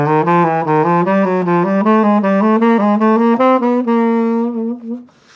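Jazz scale exercise played as a steady run of single notes, diatonic steps linked by chromatic approach notes, climbing gradually in pitch at an even rhythm before ending on a held note that fades out.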